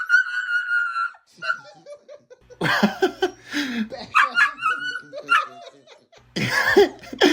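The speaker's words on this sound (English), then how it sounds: "What kind of dog bark is that?" A dog barks, yips and whimpers in a video playing back, several loud sharp barks in bursts with gaps between, mixed with laughter and voices.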